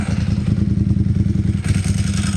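A Ducati 748 motorcycle engine running on high idle: a loud, close, steady throbbing with a rapid, even pulse and a slight lift in tone near the end.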